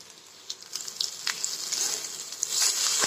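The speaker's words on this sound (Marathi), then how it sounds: "कोथिंबीर पण चांगली भाजून घ्या." Chopped coriander roasting in a pan with coconut and garlic for a spicy masala vegetable dish, giving a steady close sizzle with scattered light crackles and pops that thicken toward the end.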